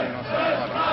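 A dense crowd of demonstrators at the end of a long street march by the École Militaire, heard as a continuous broadband murmur of many voices, fairly loud and steady, with no distinct speaker.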